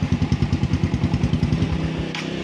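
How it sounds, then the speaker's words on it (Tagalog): A motorcycle engine idles steadily and close up, its rhythmic putter throbbing evenly before the pulses soften slightly toward the end, heard alone without talk. "Ngayon habang umaandar yung kanyang makina, tatanggalin natin yung positive supply."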